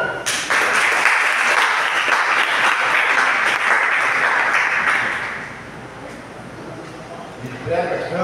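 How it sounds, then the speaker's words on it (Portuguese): A church congregation applauds to welcome a guest elder, a loud, dense roar of many clapping hands that starts abruptly, holds for about five seconds, then fades into scattered claps before a voice comes in at the end. "Vamos receber com palmas o nosso irmão."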